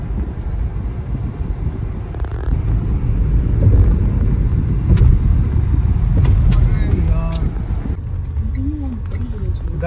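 A car driving along a village road in Haryana, a steady engine and road rumble with wind buffeting the microphone throughout, while people talk over it.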